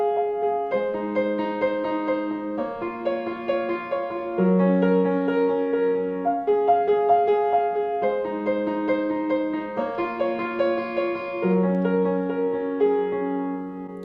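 Solo piano plays the intro of a song, with steady flowing chords and a repeating melodic figure over sustained bass notes, close and clear, with no voices.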